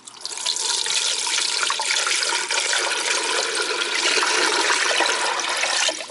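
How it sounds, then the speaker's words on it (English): Water pours steadily into the top of a water dispenser fitted with a Greenway filtration system, making a continuous close rushing splash that runs unbroken for several seconds with no voices. "Just going to pour some water in."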